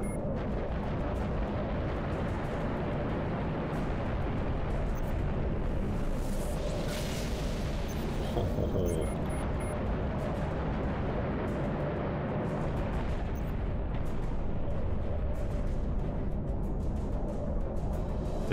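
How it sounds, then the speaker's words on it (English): Large explosion in Halo Reach, heard as a sustained, dense rumbling roar that stays loud and steady across the whole stretch, with a brighter burst of noise partway through. "That explosion's a little bit too big."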